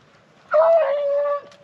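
A rabbit beagle lets out one drawn-out, wavering howl-bark close by, lasting about a second before it cuts off, while the dogs dig at a rabbit hole outdoors.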